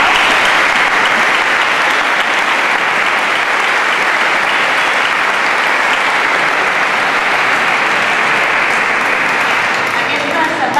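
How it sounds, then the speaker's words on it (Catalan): Sustained audience applause at a sardana association's CD presentation, many hands clapping in a steady, even roar that holds for several seconds before easing slightly at the end. "Un aplaudiment abans de res."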